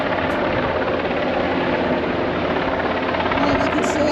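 Helicopter flying overhead in the Outer Hebrides, a steady close, loud rotor drone filling the whole moment with a faint voice underneath.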